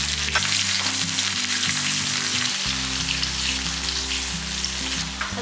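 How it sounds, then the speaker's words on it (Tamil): Curry leaves, dried chillies and shallots crackle loudly and continuously in hot oil for a village-style ground-masala sambar tempering, a dense spattering sizzle with no voices. "ஒரு எடுத்து கருவேப்பிலை போட்டுக்கலாம்"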